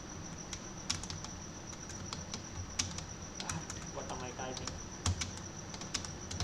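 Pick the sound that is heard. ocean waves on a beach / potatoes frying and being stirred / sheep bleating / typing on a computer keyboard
typing on a computer keyboard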